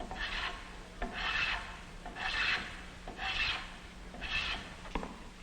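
A hand plane shaves wood in five long, rhythmic rasping strokes, each a breathy scrape with a short pause between, close up.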